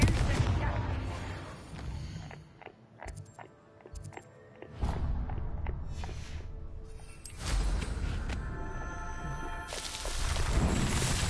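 Booming blasts and crackling bursts from spellcasting in the Hogwarts Legacy game, with a Confringo fire curse among them, arrive in several loud clusters separated by brief quieter stretches.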